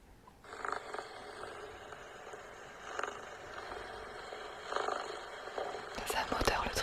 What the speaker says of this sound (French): Ton chat il ronronne très fort hein